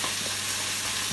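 Vegetables and crushed garlic frying in a pan, a steady close hiss and sizzle with no pauses across the short stretch.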